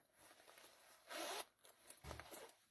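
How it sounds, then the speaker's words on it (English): The front zipper of a corset is unzipped in a few short, quiet rasping pulls, close to the microphone with faint rustling between them. "Once it's fitted, then, or mostly fitted, you can unzip it"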